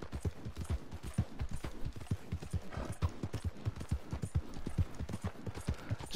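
A horse's hooves clip-clop at a steady trot in the open-world western game Red Dead Redemption 2, a rhythmic, close series of hoof beats with no voices.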